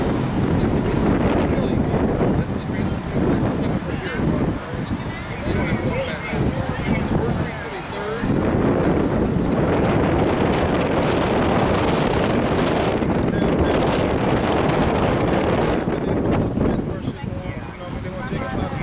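Strong wind blowing outdoors, a loud continuous roar battering the microphone with gusty surges throughout, while voices talk beneath it.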